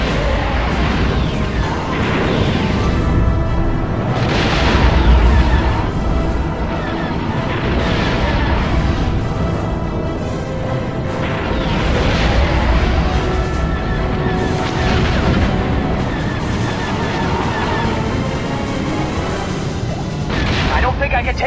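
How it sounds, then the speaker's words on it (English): Lock-on missile launches and explosions in the Star Wars Rogue Squadron video game, a dense, loud barrage of booming blasts and weapon fire running continuously under a swelling game score. "I should use my lock-on missiles."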